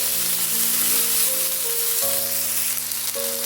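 Chopped tomato and small diced potatoes sizzle steadily in an oiled pan while poha pulao cooks, a continuous close frying hiss with faint tonal hum underneath and no talking.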